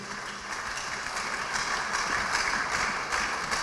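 A church congregation at a Brussels worship service applauds and cheers for Jesus, a sustained wash of clapping at moderate distance that swells slightly and holds for several seconds.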